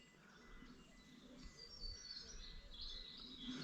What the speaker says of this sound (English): cuckoo's bloody singing away over there